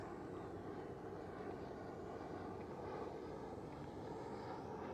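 A motorcycle engine drones steadily during a slow-speed riding practice session outdoors, a constant rumbling hum at moderate distance without strong peaks.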